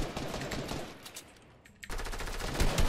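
Rapid gunfire bursts in a Fortnite match, dense and loud, cutting out briefly mid-clip before resuming with more shots and heavy impacts near the end.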